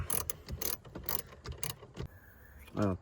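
A ratchet with a long socket clicks in quick, close bursts while working on a Cadillac CT4 battery, with a brief whirring spin near the end.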